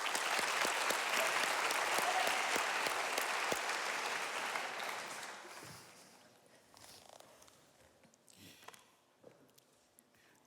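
An audience at a global health conference applauds a speaker, with thick sustained clapping that gradually thins out and fades, leaving scattered claps and faint room noise toward the end.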